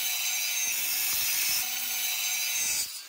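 Steel fire extinguisher body being cut along a traced line while making a mini stove, a steady rasping, grinding cut running close and loud for about three seconds before stopping.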